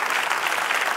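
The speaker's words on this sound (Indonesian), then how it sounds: "Boleh tepuk tangan buat Liliana." Studio audience on a Family 100 game show bursts into brisk applause, a dense, even wash of clapping heard close and alone for a short moment.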